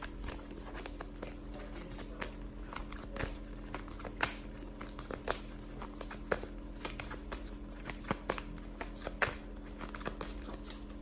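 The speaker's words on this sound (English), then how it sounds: "I'm gonna shuffle it a little bit." A tarot card deck is shuffled by hand at close range, giving a steady run of soft riffling flicks and papery crinkles over about eleven seconds, with no one speaking.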